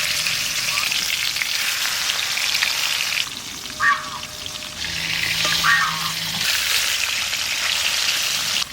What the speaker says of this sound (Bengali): তেল গরম হয়ে গেছে, এবার মাছ ছাড়ি। অল্প অল্প দিয়ে মাছ ভেজে নেব।